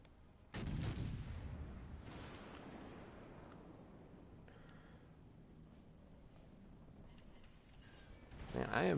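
Naval gunfire in World of Warships Legends, with a sudden heavy boom of a salvo about half a second in, a weaker report shortly after, a rumbling tail and another loud burst at the very end.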